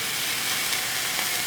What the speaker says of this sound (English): I've got a steak here on a cast iron pan